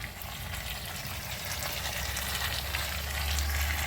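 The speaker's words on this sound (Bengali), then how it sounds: "তারপর মশলার সাথে সবজিগুলোকে ভালোভাবে কষিয়ে নেব।" Mixed vegetables frying with spices in a pan over a raised gas flame, a dense, even sizzle that swells slightly toward the end, with no voices.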